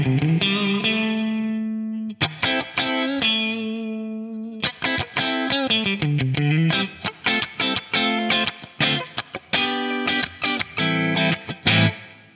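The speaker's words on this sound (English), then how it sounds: "if I turn the small hall on with a very short time" Electric guitar through a BOSS RV-500 pedal on a small hall reverb set to a very short time, giving a subtle thickening to loud, close, distorted sustained chords and choppy riffs, played alone without talk.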